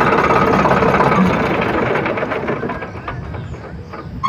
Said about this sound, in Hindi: अब हम ट्रैक्टर को बंद करेंगे।